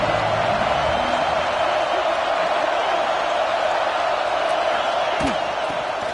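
Stadium crowd in the NCAA 26 college football video game, a loud, continuous roar of cheering that stays steady throughout, with occasional whoops and thuds rising out of the noise.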